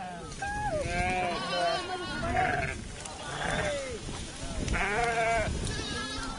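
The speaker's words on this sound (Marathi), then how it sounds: "सध्या मेंढ्या हाकतोय" A flock of sheep being herded near Nashik bleats repeatedly, with overlapping calls from several animals close by and a few voices mixed in.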